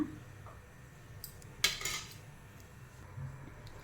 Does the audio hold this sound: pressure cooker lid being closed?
yes